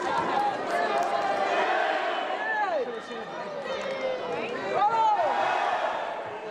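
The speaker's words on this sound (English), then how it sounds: "Crowd chanting one thing, referees on another number." Wrestling crowd at a Warrior Wrestling show chanting and cheering in a packed room, loud and sustained, with rising shouts and whoops mixed in as a referee counts.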